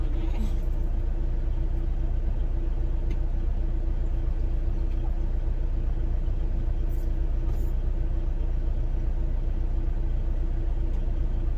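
Inside a nearly new loaner semi truck on the road, the engine rumbles as a constant heavy low drone with a faint steady hum above it, unbroken for the whole stretch.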